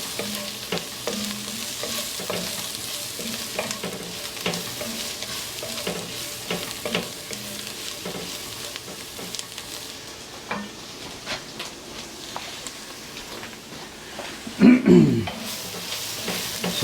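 Thyme and cumin seed stirred in a pot as brisket chili cooks, a steady sizzle with repeated scraping stir strokes, ending with a louder clatter of the spoon near the close.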